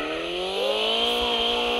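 Toy car engine revving steadily with a rising, buzzy motor tone, loud and continuous throughout.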